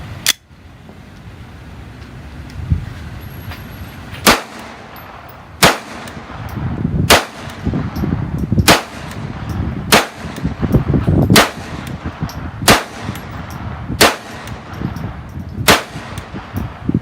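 GSG Firefly pistol firing supersonic Remington Thunderbolt ammunition through a suppressor, about ten sharp loud cracks spaced roughly one to one and a half seconds apart, each with a short ringing tail, no talk.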